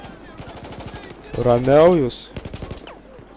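Rapid automatic gunfire from the video game Battlefield 4, crackling in fast regular bursts with a louder blast in the middle. Someone speaks briefly over the shooting.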